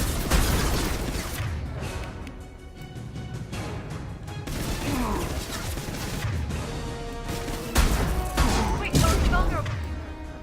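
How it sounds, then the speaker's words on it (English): Stun rifle fire in the video game Mass Effect 2, a dense run of loud crashing shots and impacts with booms and mechanical clatter, nearly continuous with heavier bursts near the end, a voice talking over it. "finish off with a stun rifle"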